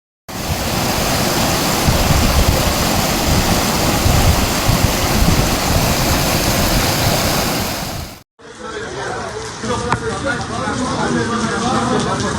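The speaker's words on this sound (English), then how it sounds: "Heavy rain and storms, which intensified in the afternoon in Gaziantep and Şanlıurfa provinces, negatively affected daily life" Heavy rain pours down in a storm in Sanliurfa, Turkey, a loud, dense, continuous roar that cuts out briefly and returns with a more uneven, rattling character, as a voice speaks during the storm.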